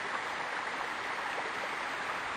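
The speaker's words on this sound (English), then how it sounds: "That's a good waterfall for her." A small waterfall at Devil's Bath Tub in Yosemite gives a steady, even rush of falling water, close and constant, with no voices.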